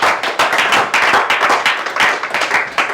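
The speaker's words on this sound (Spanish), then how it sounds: "Dale un aplauso al Dios eterno, al Dios Todopoderoso." A church congregation at Iglesia Ciudad de Refugio claps close by and loudly in quick bursts, the pace uneven and slightly rhythmic, with no voices over it.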